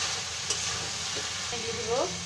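Bean and rohu fish curry bubbling in a pan, a steady loud sizzle with a sharp clink, soft stirring and a brief squeaky scrape near the end.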